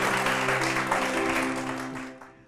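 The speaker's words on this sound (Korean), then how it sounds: "우리 박수로 맞아주시기 바랍니다." An audience at a talk concert applauds steadily to welcome a professor to the stage, a dense wash of clapping with a sustained tone underneath, gradually fading out.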